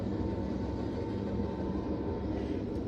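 A passing train rumbles steadily at a distance, a low continuous roar heard from inside a Marriott hotel room, with no voices.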